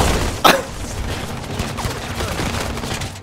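Gunfire in the video game Halo 2, a single sharp, loud shot near the start followed by a busy clatter of game noise and scattered smaller impacts, with faint voices underneath.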